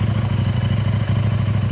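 KTM 890 Adventure R motorcycle fitted with an Arrow exhaust system idling close by, a loud, deep, rhythmic throbbing exhaust note pulsing steadily and alone throughout.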